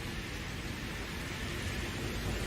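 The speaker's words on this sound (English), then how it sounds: "I turned down the raindrops was getting a little loud." Steady rain ambience plays alone as a soft, continuous hiss of falling raindrops, with a faint low rumble underneath, at moderate volume behind a live stream.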